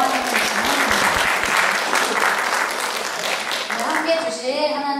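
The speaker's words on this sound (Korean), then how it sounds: "박수로 환영해 주시면 됩니다." Warm applause from a church congregation at a Sunday worship service welcomes a new high school student, dense steady clapping filling the room while a voice speaks over it and continues as the clapping thins near the end.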